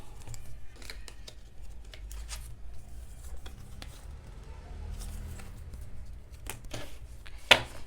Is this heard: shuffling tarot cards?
yes